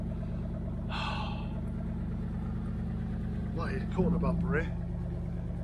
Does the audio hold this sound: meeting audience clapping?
no